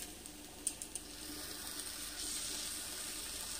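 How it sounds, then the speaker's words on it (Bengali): Water is splashed and swirled through a mixer jar before pouring into a pot for dudh shukto, a soft watery rush after a few faint knocks, fairly quiet and with no speech. "মিক্সির জার ধুয়ে একটু জল দিয়ে দিচ্ছি।"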